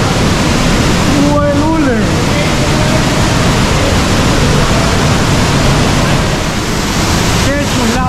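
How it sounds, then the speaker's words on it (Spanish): Underground waterfall inside a cave in Guatemala, pouring with a loud, dense, unbroken roar close by; a person briefly exclaims over it near the start and again near the end. "¡Qué chulada esa cascada subterránea!"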